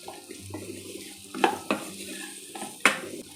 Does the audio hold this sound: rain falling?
no